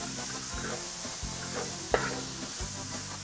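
Onion sautés in a pan as the base for a campfire paella, a continuous sizzle under regular scraping stirs, one stroke sharper than the rest.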